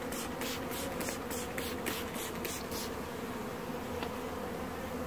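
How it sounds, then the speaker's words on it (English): Honey bees hum around a single backyard beehive in September on the island of Newfoundland, a close, continuous buzzing with a few bees zipping past near the hive. "So there are a few defensive bees around, I know that."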